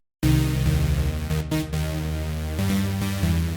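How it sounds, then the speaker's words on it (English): A cut techno track from the Minecraft soundtrack, a steady synth loop with pulsing bass and tonal notes that plays loud and continuous with a couple of brief dropouts and no voices. "What you are hearing right now is a cut Minecraft song"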